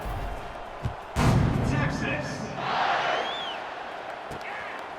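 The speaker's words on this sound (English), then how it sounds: "this crowd is buzzing after that last score" A stadium crowd at a Texas vs Texas State college football game buzzes and roars after a Texas touchdown. A sharp thump rises out of the steady crowd noise, while a commentator talks over it.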